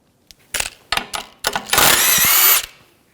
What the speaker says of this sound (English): We're going to take these nuts off, use a 16mm socket.